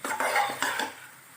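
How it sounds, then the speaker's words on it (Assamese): A spoon stirring chunks of garai fish with spice paste in a pot for a spicy curry, giving a few close metallic clinks and scrapes in quick succession before settling quiet. "এতিয়া মাছখিনি ভালদৰে মছলাৰ সৈতে মিহলাই লম"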